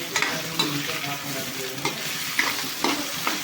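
Thick-cut potato pieces sizzle in a pan of hot oil while a spoon stirs them, with a few distinct scraping strokes over a steady frying crackle.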